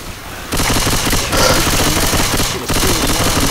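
Rapid automatic gunfire in the Dark Carnival game, a loud dense burst of shots that runs almost continuously, with two short gaps between volleys.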